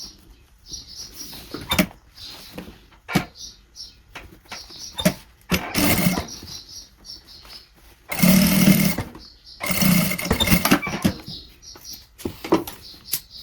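A sewing machine runs a straight stitch along fabric binding on a handmade cup holder, in close bursts of rapid whirring separated by short pauses and handling clicks.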